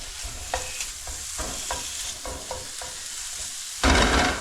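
Butter wiped thinly across a hot pan gives a soft, steady sizzle, with light scraping taps over it. Near the end comes a louder hissing surge.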